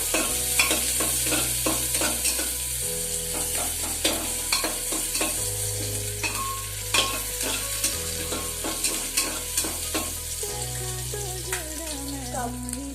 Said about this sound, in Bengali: পেঁয়াজটা সামান্য ভাজা হবে।